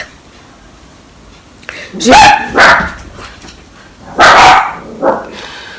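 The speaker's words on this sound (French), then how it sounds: "je suis désolée pour les chiens qui aboient" Dogs bark loudly nearby in a home, a pair of sharp barks followed by another pair after a pause, with a quiet background between them.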